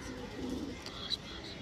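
A pigeon, one of a pair with green eyes, coos softly and briefly among other pigeons at a pigeon seller's, with faint background talk.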